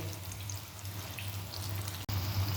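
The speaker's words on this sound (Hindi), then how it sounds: "सारे पनीर हमने ऑयल में डाल दिए। अब हम इसको फ्राई करेंगे।" Paneer pieces frying in hot oil while making chilli paneer, a steady close sizzle with a low hum underneath and a brief dropout near the end.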